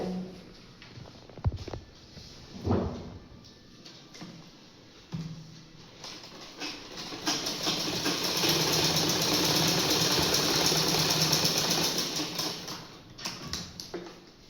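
A sewing machine runs a steady stitching burst while closing a frill on a bag, preceded by scattered fabric handling and clicks, the whirring motor rising then stopping near the end.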